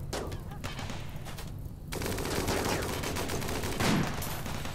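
Gunfire in the colony-building game RimWorld, including a headshot: a steady, moderately quiet stream of rapid shots that grows a little louder midway, with a brief stronger hit near the end and no talking.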